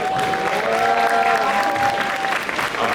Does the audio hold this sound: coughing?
no